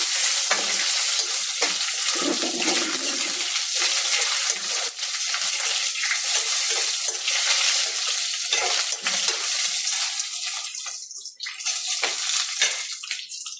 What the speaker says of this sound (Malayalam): വെണ്ടയ്ക്ക എല്ലാം നല്ലതായിട്ട് വഴന്ന് വരുന്നു.